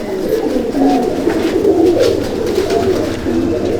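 Pigeons in a loft of tournament racing birds coo at night, a repeated soft, throaty warbling call close by, alone and unbroken.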